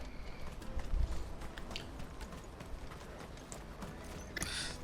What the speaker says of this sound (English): These chocobos are walking through the city streets.